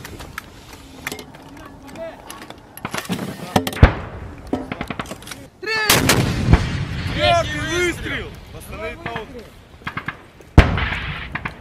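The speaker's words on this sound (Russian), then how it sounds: "Третий выстрел" Mortar rounds fire at the Russian 201st military base, several sharp, loud blasts spaced irregularly over crackling field noise, with crew members talking and calling out commands between shots.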